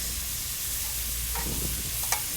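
Butter sizzles steadily in a hot pan on medium heat, a close, even frying hiss with a few soft scraping stirs and one small clink near the end.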